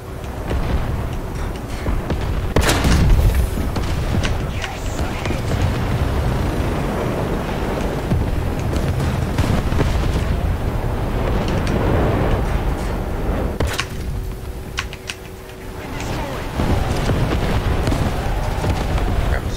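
A Leopard 2K tank gun firing in War Thunder: a sharp, heavy boom early on, then rumbling engine and battlefield noise, with a second blast later amid continuous mechanical drone.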